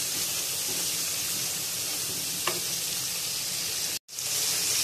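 Spices fry for beef nihari with salt, red chili and cumin, giving a steady, faint sizzling hiss with a small clink partway through and a short dropout near the end, with no talk.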